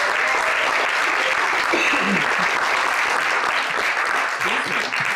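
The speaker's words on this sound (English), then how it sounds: "another round of applause?" Loud, dense audience applause fills a poetry recitation contest hall, steady and sustained throughout with no breaks.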